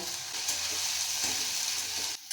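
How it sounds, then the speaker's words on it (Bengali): Tomato and onion fry together in hot oil with a dense, continuous hiss and crackle, close up, with faint stirring beneath and a brief drop near the end. "টমেটো পেঁয়াজটাকে আমি একসাথে ভেজে নেব।"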